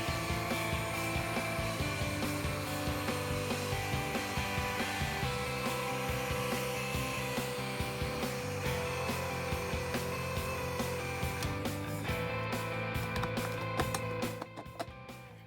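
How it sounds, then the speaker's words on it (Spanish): A Parkside cordless heat gun blows hot air at a plastic pipe, a continuous loud, steady fan roar throughout that eases slightly at the very end. "La de batería no ha conseguido calentar el plástico."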